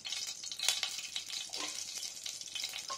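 Panch phoron whole spices frying in hot mustard oil, a dense, bright crackling sizzle with sharp pops, close and steady for a few seconds, no voices.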